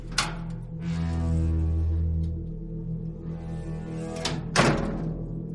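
A heavy metal gate door in a story sound effect, opening in two stages with a resonant scraping hum and low thunks, then a sharp knock near the end.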